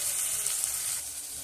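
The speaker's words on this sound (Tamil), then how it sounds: "அடுத்து இந்த மஞ்சள்தூள், மிளகாத்தூள், நம்ம ரெண்டு கிண்டிக்கலாம்." Turmeric and chili powder stirred into a pan of gravy that sizzles and fries steadily, a dense hiss close up with faint spoon scrapes, no voices.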